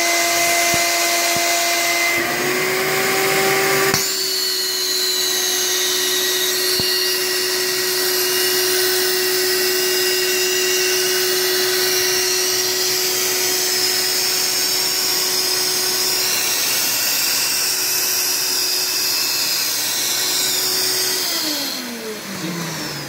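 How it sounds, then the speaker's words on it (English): A vacuum forming machine's vacuum pump runs steadily and loudly for about twenty seconds, a constant whirring drone with a high whine that winds down at the end. "Turn the vacuum on."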